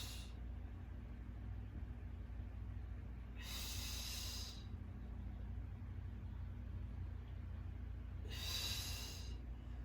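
Two deep breaths taken during a pilates exercise for runners, each a close, airy breathy burst a few seconds apart over a steady low background hum, with no talking.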